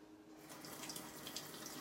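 Water runs steadily from a tap into a sink as a small paintbrush is rinsed, a close, continuous splashing hiss that starts abruptly and carries on with no voices.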